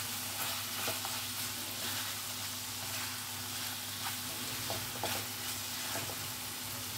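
Keralan-style chicken curry sautés in a pan, giving a steady, close sizzle with faint stirring scrapes throughout and no voices.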